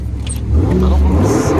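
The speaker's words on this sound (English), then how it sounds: "want to rev it once" A car engine revs once, a near, loud rumble that swells and holds, with voices talking over it.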